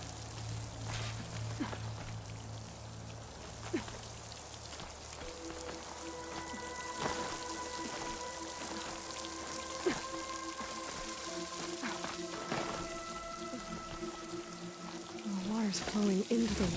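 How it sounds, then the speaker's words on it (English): Water from a waterfall in the video game Horizon Forbidden West splashes and pours in a steady, rain-like wash, with occasional tonal game sounds layered over it throughout. "Near that waterfall."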